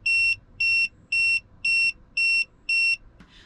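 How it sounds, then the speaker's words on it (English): A TPMS tire pressure monitor on an RV sounds its low-pressure alarm: six loud, evenly spaced high-pitched electronic beeps in a steady rhythm, each about a quarter second long, with near-silence between them. "you get a low pressure alarm if your tire is suddenly losing pressure"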